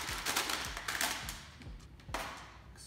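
Semolina poured into sugar in a mixing bowl in a home kitchen, making a few soft thumps and gritty rustling pours, close and fairly loud, with no talking.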